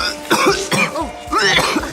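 Several throat-clearing coughs from a person with a sore throat come close and fairly loud in quick bursts, with a short pause in the middle.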